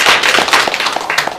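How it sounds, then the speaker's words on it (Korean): Applause at a panel discussion forum, a short, loud burst of sharp individual claps with distinct slaps standing out over a dense patter. "또 한번 박수를."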